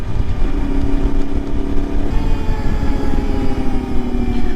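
An Ibex 450 motorcycle with an upgraded ECU, riding on the Ortega Highway, makes a loud, steady engine drone that shifts in pitch as the throttle eases off and rolls back on, with constant road rumble and no voices.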